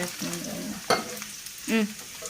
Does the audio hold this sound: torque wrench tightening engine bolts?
no